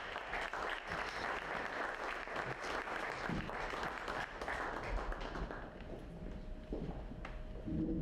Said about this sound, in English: please give a round of applause for Frank Masouts